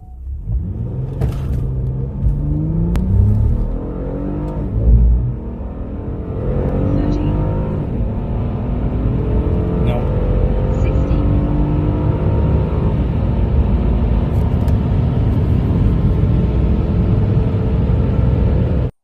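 An Acura TL SH-AWD on 19-inch wheels revs and accelerates hard from 0 to 60, its engine note climbing through the gears in a loud, continuous, close roar that fills the whole stretch.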